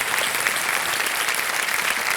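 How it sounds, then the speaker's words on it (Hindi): A studio audience on a televised quiz show claps together in a dense, even roar of applause that stays loud and steady throughout, with no voices over it. "तालियों के साथ आपका अभिनंदन करते हैं"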